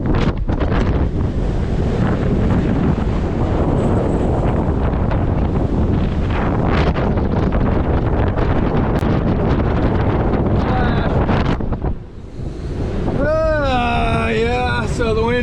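Strong wind roars and buffets a hove-to sailboat in the Gulf of Maine, loud and close with heavy gusty rumble and waves, a brief lull near the end before more gusting.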